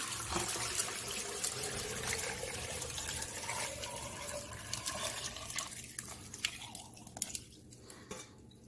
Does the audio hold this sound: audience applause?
no